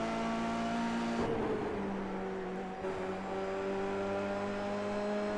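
Formula 3 race cars in a sim racing video game, with a steady engine whine whose pitch drops as the cars brake, then holds at a lower tone.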